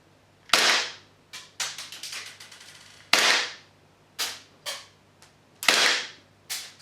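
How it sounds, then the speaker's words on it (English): An airsoft pistol fires through a SilencerCo Osprey 45K suppressor: a series of sharp, close pops, some single and some in rapid clusters, each with a short decaying tail, separated by quiet gaps. "I'm going to fire the airsoft pistol once the dB has dropped down"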